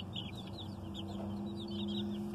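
A crowd of young chicks peep and cheep continuously in a chicken enclosure, dense overlapping high calls close by over a steady low mechanical hum.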